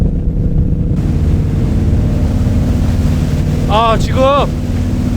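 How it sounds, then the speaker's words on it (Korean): A Scania V8 marine engine drives a boat hard through waves, giving a loud, steady, deep drone with rushing water and wind. A voice speaks briefly near the end. "트럭도 장엄한데 배의 이 엔진 소리도 확실히 달라요."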